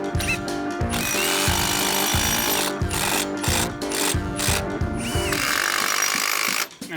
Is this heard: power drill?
yes